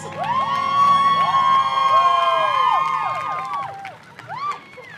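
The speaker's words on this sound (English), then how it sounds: "Let's give them a round of applause, or honks." A fashion show crowd at an art college cheers, whoops and claps loudly, with shouting voices and horn-like honks layered over the applause before it dies down and a few cries return.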